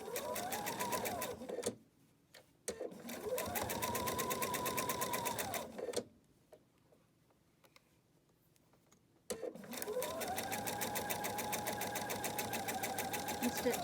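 Sewing machine stitching flat fabric seams, running in three steady bursts of rapid mechanical whirring that speed up and slow down, separated by short quiet pauses with soft handling noises.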